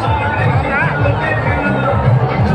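Dense crowd at a night Durga Puja fair in Muhammadabad, UP: a loud, continuous hubbub of many overlapping voices with chatter close by, steady throughout.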